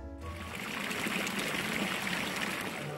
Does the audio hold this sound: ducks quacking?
no